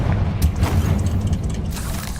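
A Confringo fire spell bursts in Hogwarts Legacy with a deep booming blast, followed by rumbling low-end crackle and a second sharper hit near the end.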